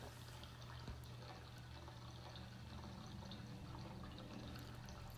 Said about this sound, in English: Hear the deep, calming rhythmic sounds of the waves breaking on the beach.